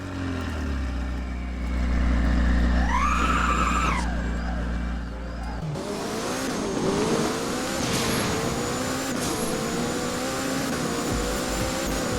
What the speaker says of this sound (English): Let me crank up the volume so you can hear that V8.